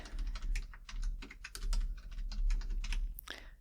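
Rapid clicking of fingers typing a password on a computer keyboard, close and crisp, in quick irregular bursts with no talking.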